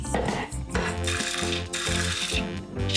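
A chopping blade is fitted into a food processor while rusk for sausages is being made, giving quick bursts of plastic and metal clattering and rattling, close and fairly loud, with short pauses between.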